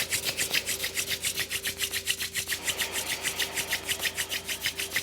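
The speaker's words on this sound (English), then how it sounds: "vigorously rub the hands together again" Palms rubbed together vigorously during a Kundalini kriya session, a fast, steady back-and-forth rasping that repeats in close, even strokes for the whole stretch, with no talking.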